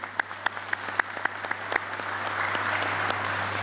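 An audience applauds in tribute to President Abdelaziz Bouteflika, starting with a few distinct, sharp claps that quickly swell into steady, dense clapping from a sizeable crowd, heard from a moderate distance over a low constant hum.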